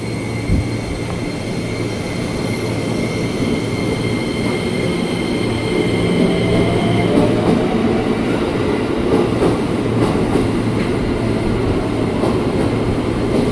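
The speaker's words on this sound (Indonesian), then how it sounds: "Pintu ditutup, kereta berangkat dari jalur 4. Rangkaian 8 kereta." An eight-car KRL commuter train pulls away from platform 4 on the Bogor line at night, a steady, loud rumble of wheels and rail noise with faint squeals and clicks building as it gains speed.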